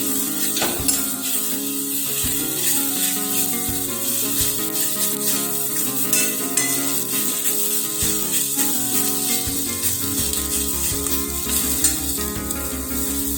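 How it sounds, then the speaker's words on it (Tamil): Black nightshade greens sautéing with onion and chilli in a pan, a steady close sizzle with scraping, clinking stir strokes throughout and no talk. "கீரை நல்லா வதங்கிருச்சு"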